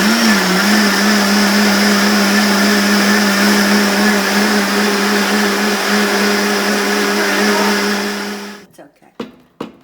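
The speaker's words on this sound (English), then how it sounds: "We didn't realize the blender worked so well." A kitchen blender whirs loudly and steadily while puréeing a smoothie soup, then cuts off near the end, leaving a few faint clunks.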